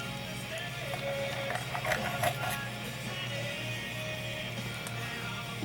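A Waterbury padlock being picked open, with small metallic clicks and scraping of tools in the keyway over a steady low background hum, close and fairly quiet.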